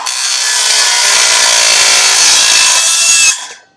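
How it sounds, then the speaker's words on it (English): A circular saw fitted with its blade turned backwards cuts through an aluminum fence rail, giving one loud, continuous high-pitched grinding whine lasting a few seconds before spinning down. "the best way to cut this is a circular saw with the blade turned backwards"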